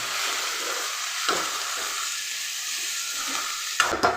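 Spinach and egg stir-fry sizzling steadily in a pan, a bright continuous hiss with a couple of soft stirring scrapes, no voices.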